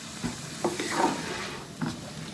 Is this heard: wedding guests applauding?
no